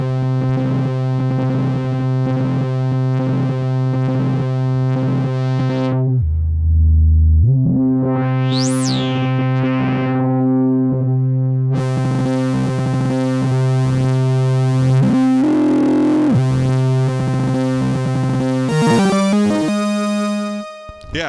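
Vintage Korg MS-20 synthesizer producing odd, unintended tones: sustained buzzy harmonic drones that cut out and return, with a sweeping high pitch glide in the middle and wavering, unstable tones throughout, faint voice in places.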